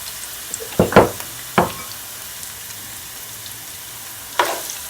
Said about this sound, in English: I'm gonna add my onions, my garlic, and my spring onions, and I'm just gonna allow it to saute just for a couple of seconds